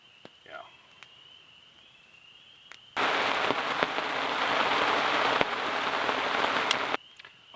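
Severe rainstorm pounding on a tarp tent, a loud dense roar of rain on fabric that bursts in suddenly and holds for about four seconds before cutting off, with quieter outdoor sound on either side.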